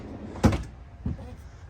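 A cabinet drawer in a custom work trailer, built from half-inch cabinet-grade plywood with lock-open slides, gives a sharp knock, then a softer second clunk a moment later.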